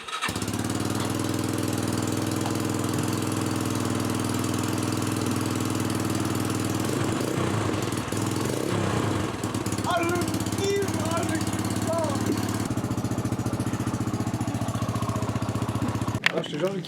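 A Yamaha YBR motorcycle fitted with a performance exhaust idles with a steady, loud, rumbling drone that continues throughout, and brief voices speak over it in the middle before a sudden cut at the end.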